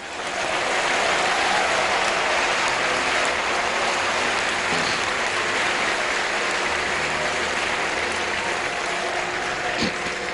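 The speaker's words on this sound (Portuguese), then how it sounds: "Você pode aplaudir a Deus nesta noite?" A large church congregation claps continuously, loud and dense, sustained without break for about ten seconds.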